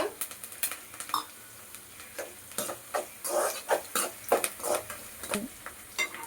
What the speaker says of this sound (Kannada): ಕರಿಬೇವು ಹಾಕಿ ಈರುಳ್ಳಿ ಸ್ವಲ್ಪ ಕಲರ್ ಚೇಂಜ್ ಆಗೋವರೆಗೆ ಫ್ರೈ ಮಾಡ್ಕೊಳ್ಳೋಣ.